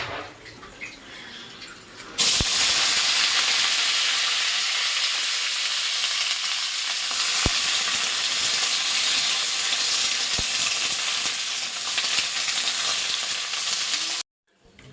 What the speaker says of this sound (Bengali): এটাকেই মশলা দিয়ে আলু দিয়ে একটু ওই নাড়াচাড়া করে একটা তরকারি মতো করব